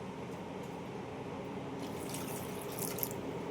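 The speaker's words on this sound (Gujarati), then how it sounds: "1 વાટકી ગોળ ઉમેરીને એની સામે આપણે 1 વાટકી પાણી ઉમેરવાનું છે." Water poured from a bowl onto jaggery in a cooking pot makes a steady, close, continuous trickle and splash that swells slightly toward the end, with no voices.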